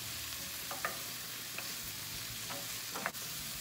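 Mushrooms and vegetables sizzle softly in butter in a pan, a quiet steady frying crackle with a few brief clicks and scrapes of stirring scattered through.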